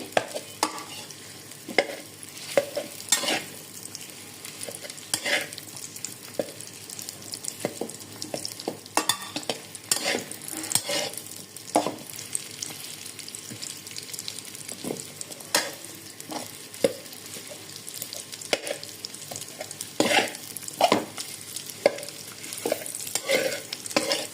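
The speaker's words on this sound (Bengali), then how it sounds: "এটাকে আমি অল্প একটু সময় ঘিয়ে ভেজে নিই।" Food frying in ghee in a pan, with a steady sizzle and repeated stirring scrapes and clinks, close and continuous throughout, with no voices.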